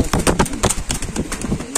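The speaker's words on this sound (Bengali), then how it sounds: "এখানে আছে একজন রেসার কবুতর, মিলি রেসার।" Racer pigeons at a pigeon market give close, repeated soft coos and rustling flutters in quick, uneven bursts, with no talking over them.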